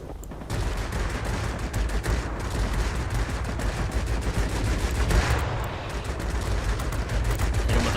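Sniper cannon fire in World of Warplanes booms steadily and rapidly over a dense, continuous roar of aircraft and battle noise, heavy and loud throughout.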